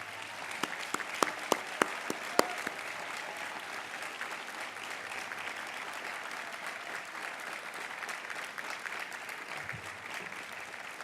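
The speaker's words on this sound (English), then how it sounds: "That is a warm applause." Warm applause from a commencement audience at Emory's 2006 ceremony, opening with a few sharp, distinct claps before settling into sustained, even clapping from a large seated crowd that continues to the end.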